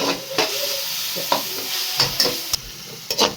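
Vegetables for veg chowmein, with red and green chili sauces, sizzle steadily in a hot pan while a spatula stirs them in repeated quick scrapes and knocks, close and clear.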